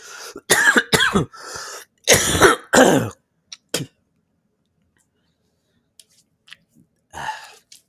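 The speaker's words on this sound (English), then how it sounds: "This cough is starting to get annoying, really, to be honest with you." Several harsh coughs and throat clearing come in quick bursts up close, followed by quiet and a few softer coughs near the end.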